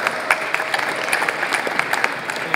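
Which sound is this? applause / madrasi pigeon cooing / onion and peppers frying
applause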